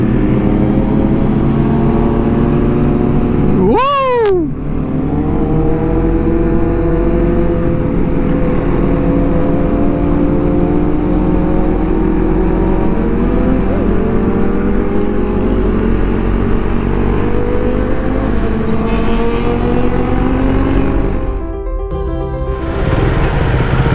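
A motorcycle cruises along a six-lane highway near Yelagiri, its engine a loud, steady drone with wind rush running unbroken throughout. A brief rising whine sweeps up near the start.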